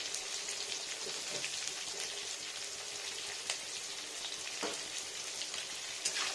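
Potatoes frying in a pan for a Bengali hilsa fish curry make a constant soft hiss and sizzle with scattered small pops and crackles, close and fairly quiet, with no voices.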